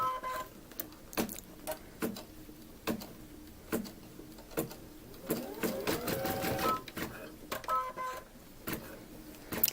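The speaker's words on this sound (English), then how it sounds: "You want to slow the machine down and then make sure that the needle is going to fall directly on top of that outer stitch line." A sewing machine stitching a mandala placemat runs in short, slow bursts of rapid needle clatter, with one longer, faster run in the middle, close and clear, no voices.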